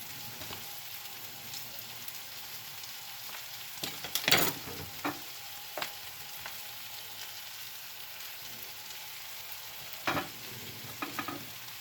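Brussels sprouts frying in butter in a pan, a continuous hissing sizzle with occasional scraping and clanks as the pan is shaken and the contents stirred.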